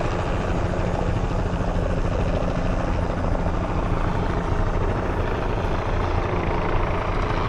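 Several helicopters flying low overhead during a manhunt search, a loud continuous rotor thrum and engine roar that holds steady throughout with no talk.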